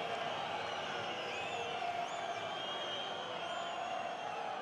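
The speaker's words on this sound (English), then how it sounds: "You hear from the crowd what they make of the decision." Rugby stadium crowd at a Heineken Cup match between Montpellier and Ulster, reacting to a referee's decision with a steady distant roar, some whistles and jeers, fairly faint and continuous.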